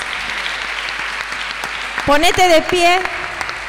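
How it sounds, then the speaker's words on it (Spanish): Applause for the King of Kings rings out in a church during a sermon, a steady wash of clapping from the congregation under a voice, swelling briefly near the end as he speaks louder. "Dale un aplauso al Rey de Reyes, al Señor de Señores."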